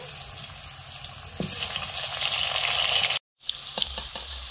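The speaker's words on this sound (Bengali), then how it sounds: "ঝোলের আলুগুলো ভেজে নিচ্ছি।" Potato pieces for a fish curry fry in a pan with a continuous close sizzle, occasional stirring clicks, and a brief silent gap before the frying resumes.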